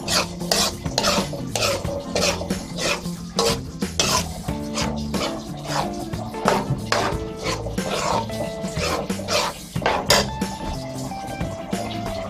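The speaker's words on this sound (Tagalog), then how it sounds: "hahaluin lang po natin" Sardine spaghetti sauce being stirred in a pan, with rapid, repeated metallic scrapes and clanks of a utensil against the pan, close and fairly loud throughout.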